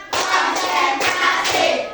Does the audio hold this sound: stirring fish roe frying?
no